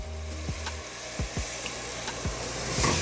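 Garlic sizzles in a pot at the start of a Manhattan clam chowder, a steady close hiss broken by several short knocks and scrapes of stirring.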